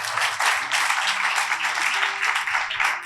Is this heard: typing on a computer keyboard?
no